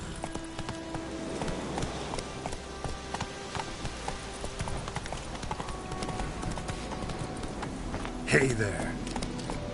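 Roach, the horse in The Witcher 3, clip-clops along in a steady rhythm of hoof beats throughout. A voice speaks over the hooves, and a brief louder burst sounds near the end.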